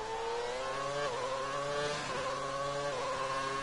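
A classic race car in a racing sim esports series drones steadily, its engine pitch dipping and climbing through gear changes as another car closes in from behind, moderately loud with no talk.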